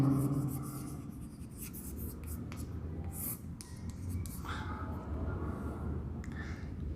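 Marker or chalk writing on a board during a maths lesson, soft scratchy strokes in short bursts, faint and close, with a voice present.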